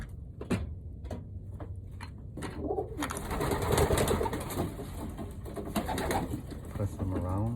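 Young racing pigeon cooing softly while being handled, low murmuring coos close by, mixed with handling rustles and a voice talking over it.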